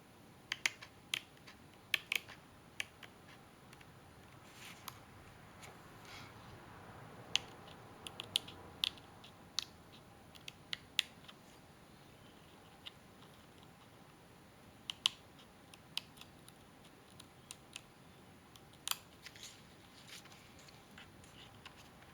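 Scissors cut out a small stamped paper lipstick tube for a handmade card, giving faint scattered snips and clicks over a quiet room, irregular and close.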